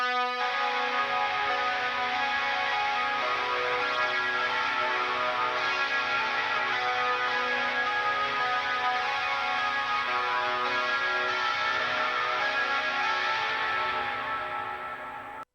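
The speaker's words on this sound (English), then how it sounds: "For the leads and ambient tones, I was using this preset called Blessed Be Clean" Clean ambient electric guitar lead tone played through the Blessed Be Clean preset in a Spiritbox-style rig, sustained shimmering notes washed in echo and reverb, steady and full throughout before fading slightly at the end, no voices.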